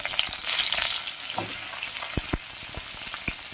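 Pointed gourd and potato pieces fry in hot oil in a pan, a steady close sizzle with several sharp stir clatters of a spatula against the pan.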